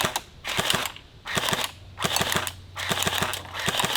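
Full-auto airsoft gun firing BBs in four rapid bursts, each a fast rattling chain of sharp clicks with a motor whine, separated by brief pauses, close and loud.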